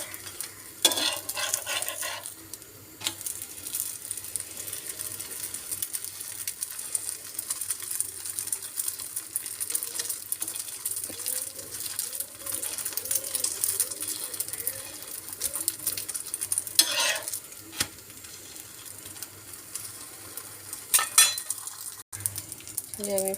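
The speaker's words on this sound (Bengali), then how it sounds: "এইভাবে আমি কয়েকটা ফ্রোজেন পরোটা ভেজে নিই" Frozen parathas fry in a pan with a constant soft sizzle, while occasional utensil clinks and scrapes against the cookware come and go, close by and moderately loud.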